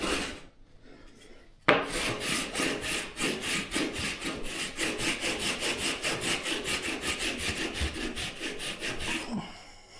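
A hand rasp scrapes rough spots on drywall in quick, even back-and-forth strokes, a close, gritty rhythmic rasping that starts abruptly after a short quiet pause.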